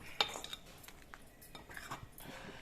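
A spoon clinks and scrapes against a pot while pulissery curry with curry leaves and salt is stirred, producing a few sharp metallic taps followed by faint scraping, quiet and close.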